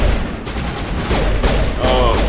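Armor anti-personnel rounds fired in the Mass Effect video game, a loud, continuous burst of rapid gunfire with heavy booming impacts packed close together across the whole stretch.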